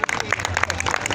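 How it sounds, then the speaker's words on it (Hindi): A studio audience at a televised quiz program claps for a winner, a brief burst of dense, lively hand clapping lasting around a second. "एक बार तालियां हो जाए इनके लिए"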